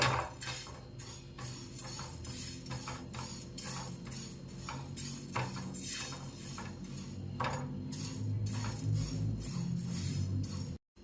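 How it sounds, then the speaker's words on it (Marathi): Cumin, fennel, coriander and fenugreek seeds are dry-roasted in a pan for a chili pickle, with a steady, close scrape and clatter of a spoon stirring against the metal. "फक्त एक 30 ते 40 सेकंद आपल्याला हे भाजून घ्यायचं आहे"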